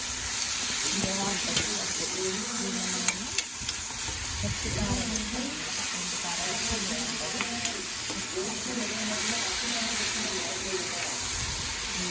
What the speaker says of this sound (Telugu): ఆకుకూర పచ్చివాసన వేయడం వల్ల ఆకుకూర ఈజీగా వేగిపోతుంది